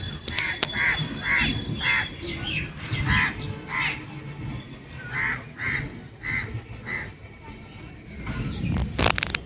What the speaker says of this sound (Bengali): এই সকালবেলা ছাদে আসলে অনেক রকম পাখির ডাক শোনা যায়।